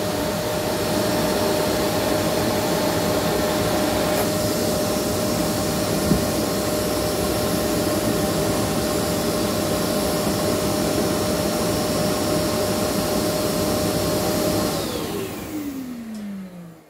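A corded vacuum hooked to a Bosch GCA/GCT 30-42 wireless activation module keeps roaring steadily as a dust extractor after the tool stops, then winds down with a falling whine near the end.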